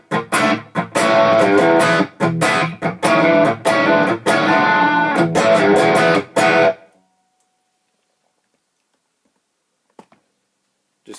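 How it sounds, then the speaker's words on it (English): An electric guitar runs through an Atomic Amplifire V3.0 with subtle reverb and noticeable pre-delay, playing loud, distorted rhythmic chords in choppy bursts, then cutting off into near silence with only faint taps afterward. "So now we've got some reverb, very subtle,"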